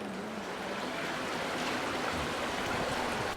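Water splashes and pours without pause into a stone basin at one of Bern's sixteenth-century Swiss city fountains, steady, close and fairly loud.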